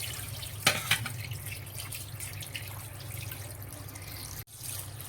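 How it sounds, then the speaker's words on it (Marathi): Water runs and trickles over raw chicken being washed with salt, a soft steady flow with a couple of louder splashes early on and a brief break near the end, no voices. "चला, मी धुवायला पाणी टाकून 5 मिनिटं ठेवणार आहे."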